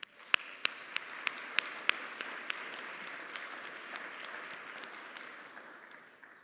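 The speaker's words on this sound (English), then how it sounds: "why don't we give them a quick round of applause?" A summit audience at a prostate cancer event gives a quick round of applause, a few sharp nearby claps at the start rising into a soft, sustained patter of many hands that gradually thins out.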